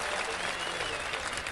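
A large football crowd at a Workington versus Rochdale playoff match applauds, a dense, steady wash of clapping from many hands that sounds broad and continuous throughout.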